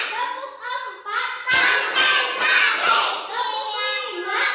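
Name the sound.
class clapping along in a rhythmic clap sequence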